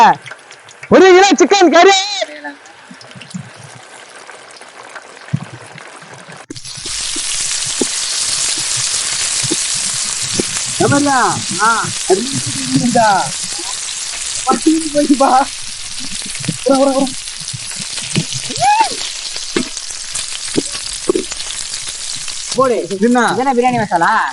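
Meat sizzles and fries in a pan while biryani is being cooked; a steady, loud broadband sizzle with stirring runs for most of the clip, with people talking over it.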